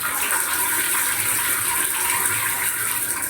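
Water rushes steadily from an opened shower faucet just repaired for a leak, a loud, continuous hiss and splash with no pauses, heard on its own.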